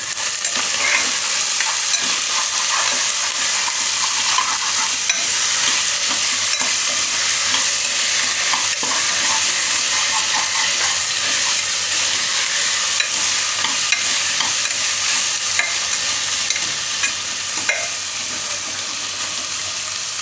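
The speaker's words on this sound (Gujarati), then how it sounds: "તો આમાં આપણે નાખી દઉં ફ્લાવર." Cauliflower is tipped into a pot of dal and rice khichdi and stirred, giving a loud, continuous sizzling, scraping hiss up close that barely changes throughout, with no one talking.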